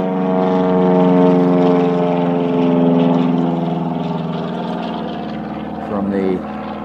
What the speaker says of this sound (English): There's one of the planes going over.